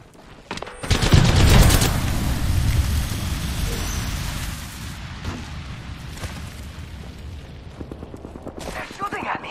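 Heavy gunfire in a squad-based video game, a dense, loud burst of shots that settles into a steady crackling barrage with scattered sharper cracks over about nine seconds.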